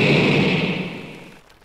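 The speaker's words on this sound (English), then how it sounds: "Ah, an explosion!" A video game explosion aboard a minecart, a loud broad roaring burst already in progress that slowly fades out with an echoing tail over under two seconds, no voices.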